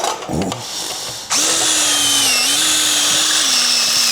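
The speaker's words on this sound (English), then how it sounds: "Drilling out." A power drill whirs loudly and steadily, drilling out holes for fuel filler panel hardware, its pitch dipping slightly under load, after a brief clatter of handling noise.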